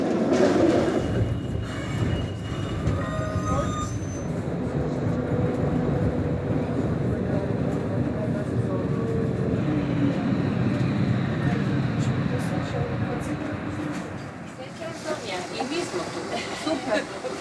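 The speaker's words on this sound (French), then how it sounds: "Non, le tramway." Riding inside a tram in Croatia, a continuous rumble of wheels on rails with occasional squeals and rattles, while people chat over the steady rolling noise.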